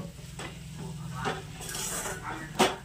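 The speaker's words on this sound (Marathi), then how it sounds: "आई बघा किचनमध्ये स्वयंपाक करायला लागली इथं।" Someone cooking in a home kitchen, a spoon stirring and scraping through food frying in a pan, with a steady sizzle and a few clinks of metal against the pan, close and continuous.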